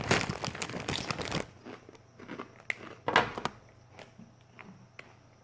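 Doritos chips eaten from a crinkly bag: a loud burst of bag crinkling and rustling, then several separate crunchy bites and chewing sounds, close and fairly loud, with no talking.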